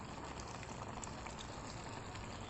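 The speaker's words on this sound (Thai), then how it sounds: "ตอนนี้ผัดไข่น้ำก็เดือดผุดๆแล้วนะคะ" A pot of Thai egg-and-pork stir-fry broth with pork belly bubbles at a rolling boil. It makes a steady, close, dense fizzing and popping with no voices.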